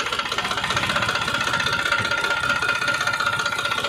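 A Farmtrac tractor's turbocharged diesel engine runs steadily nearby with a loud, rhythmic knocking chug and some rattle. It goes on without a break and nobody speaks.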